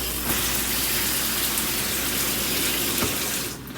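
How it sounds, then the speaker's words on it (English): A shower faucet in a 2024 Aspen Trail 260THLOFT travel trailer runs steadily, giving a close, loud, even hiss of spraying water that cuts off near the end. "You have your shower, hot and cold water."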